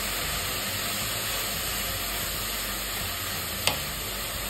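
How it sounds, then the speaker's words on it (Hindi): Vegetables for veg momos stir-frying in a pan, a dense steady sizzling hiss heard up close with one brief knock near the end and no speech. "इसमें डाले अच्छी क्वांटिटी में डालिए सारी सब्जी।"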